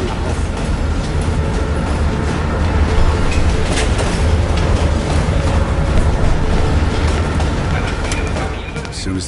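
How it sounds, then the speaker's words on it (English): A train rumbles along the rails in the video game Black Ops, a loud continuous low rolling roar with rattling and clacking, under dialogue from the characters throughout. "As soon as the train slows down, you and I'll jump off."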